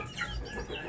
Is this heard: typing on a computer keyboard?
no